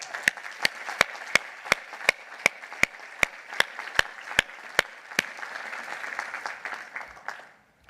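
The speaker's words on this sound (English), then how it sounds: "Please give them a round of applause." Sustained crowd applause at a university commencement ceremony, a dense wash of clapping punctuated by regular sharp percussive hits, steady for several seconds before fading out at the end.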